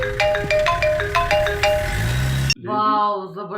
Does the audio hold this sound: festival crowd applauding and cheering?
no